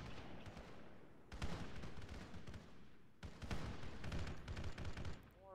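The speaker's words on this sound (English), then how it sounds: "More mortar." Heavy mortar and gunfire barrages in a military shooter game set in East African woods, with two loud bursts of rapid booming impacts separated by a quieter rumbling stretch, near and dense.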